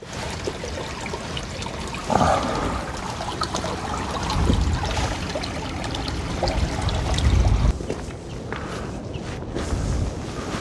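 A stream flows in Iceland's East Fjords, a steady close trickle and gurgle of running water with a broad rushing wash, joined by a few scuffing footstep-like sounds and brief thuds along the way.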